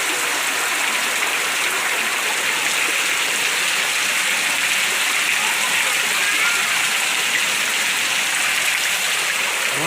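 A dense, steady roar of heavy nighttime rain hisses without pause. The downpour sounds close and uniform from start to finish.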